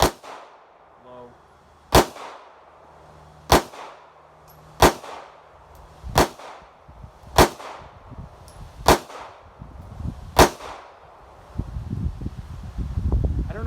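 Seven sharp 9mm pistol shots with 124 grain lead round nose ammunition, fired at a silhouette target at a steady pace roughly one to two seconds apart, loud and close, with a rustling, breezy rumble after the last shot.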